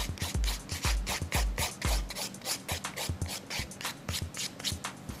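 Nail file rasping across an acrylic coffin-shape nail extension at an angle, close rapid repeated strokes with a dry scratchy rhythm, heavier thumps early then lighter quick passes, no talking.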